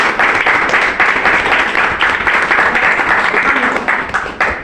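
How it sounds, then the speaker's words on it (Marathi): An audience of parents and students claps loudly at a speech event, dense and sustained applause that fills the room without pause, with no speech over it. "एकदा जोरदार टाळ्या होऊ द्या."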